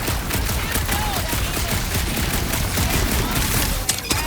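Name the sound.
gunfire in video game Marvel's Guardians of the Galaxy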